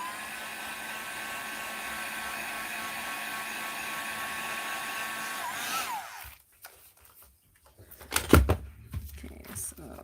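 A hair dryer blows steadily to dry ink on a junk journal embellishment, then cuts off about six seconds in, followed by brief handling thumps and clatter.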